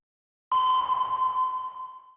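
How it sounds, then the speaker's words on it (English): Sonar-style ping used as a sound effect in an edited sound design piece: a single bright tonal ping enters after a brief silence, then rings out and slowly fades with a reverberant tail, heard alone. "I found this cool like sonar type thing"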